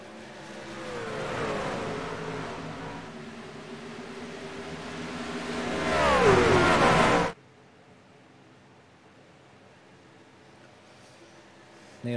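NASCAR race cars in a racing video game roar and accelerate in a sustained engine drone that swells louder with rising pitch, then cuts off abruptly to near silence.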